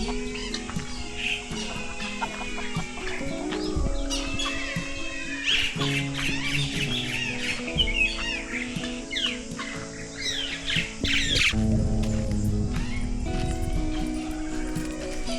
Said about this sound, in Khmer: មាន់ព្រៃ